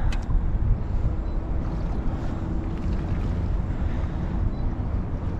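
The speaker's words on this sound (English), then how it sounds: "North wind, gusting all roughly about 40 right now." A strong gusting north wind on the Detroit River buffets the microphone with steady, loud low rumble and roar for several seconds, with no voices over it.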